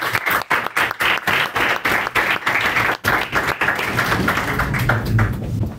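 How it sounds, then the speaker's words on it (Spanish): An audience at a university award ceremony in Mexico bursts into loud, sustained applause for a prize winner, dense clapping continuing for several seconds with a few sharper claps standing out. "les pido un aplauso"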